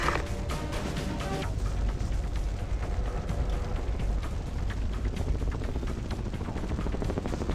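Helicopter in the video game Ghost Recon Advanced Warfighter, a loud continuous rotor chop with rapid rhythmic thumping and mechanical rattle throughout.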